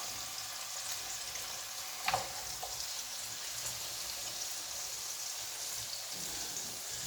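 Lamb steaks frying in a pan, a soft continuous sizzle and crackle with a brief clunk near the start, no talking.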